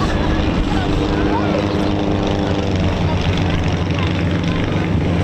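A formation of vintage propeller aircraft passes at an airshow, giving a loud steady droning engine rumble throughout, with a commentator talking over it.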